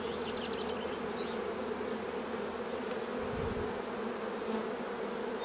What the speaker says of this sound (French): Mais c'est un essaim qui est sur 3-4 seulement.